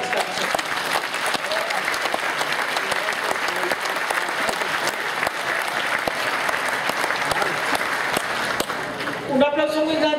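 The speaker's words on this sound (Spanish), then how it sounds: "nos merecemos un aplauso muy grande todos y todas las que están." A forum audience at an agrarian development policy event claps in sustained, dense applause for about nine seconds, loud and close, before it stops and a voice starts speaking at the end.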